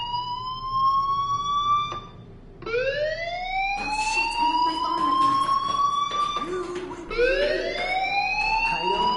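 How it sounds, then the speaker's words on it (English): A fire alarm in the game Life Is Strange Remastered wails in repeated rising sweeps with short breaks between them, loud and steady, while a voice talks over it. "Hey, do you hear that fire alarm? That means you should be outside."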